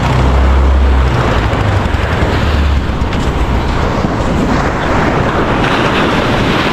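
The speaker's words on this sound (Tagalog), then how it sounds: "Alon na malakas." Strong ocean waves crash and wash onto the shore in a loud, continuous roar, with gusts of wind buffeting the microphone and a deep surge at the start.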